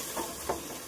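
Vegetables and spices with turmeric are sautéed in a pressure cooker pan for veg biryani, a soft steady sizzle with two brief stirring scrapes, close and quiet.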